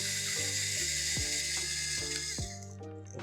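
A ratchet clicks steadily while driving screws during a facemask and bag-patch project, with bursts of rapid ratcheting broken by short pauses and a bright mechanical whir over everything, close and clear with no talking.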